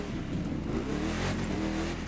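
Ford F-150 Raptor Racer Truck engine in the video game The Crew 2, a steady, throaty revving drone with harmonic whine, close and continuous, no talk over it.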